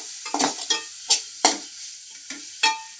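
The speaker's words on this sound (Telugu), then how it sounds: "వేసుకొని మొత్తం ఇలా ఫ్రై చేయాలి" Spices with coriander and black pepper powder frying in oil in a pan, with sharp sizzling bursts as the mixture is stirred, several distinct scraping strokes spaced irregularly, close and fairly loud.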